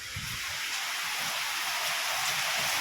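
Rain falling steadily outdoors, a broad, even hiss of drops on surfaces that stays constant throughout, moderately loud and continuous with no voices over it.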